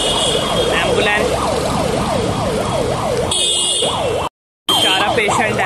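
Ambulance siren wailing continuously while stuck in a Delhi traffic jam, loud and close, its rising and falling tone repeating steadily amid road noise and other horns, briefly cut off near the end.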